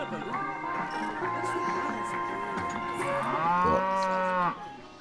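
Cow mooing from a Cosmic Cow sign placed in the Planet Coaster park-building game, several drawn-out moos in a row with the last swelling louder, over game background music.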